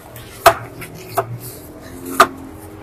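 Shallots chopped on a cutting board for fried shallots: three sharp knife knocks at irregular intervals, close and loud in a quiet kitchen.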